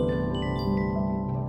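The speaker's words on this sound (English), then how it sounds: "This sound is the audible translation of real data from the very center of our Milky Way" A steady, layered electronic drone sonified from real data at the center of the Milky Way, with sustained tones and faint high chimes shimmering over it, eerie and continuous.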